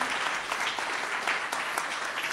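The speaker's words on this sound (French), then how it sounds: "applaudissements s'il vous plaît pour ce parcours atypique et ce rebond réussi" An audience at a Paris career-rebound event breaks into steady, dense applause, a continuous wash of many hands clapping at moderate volume with no voices on top.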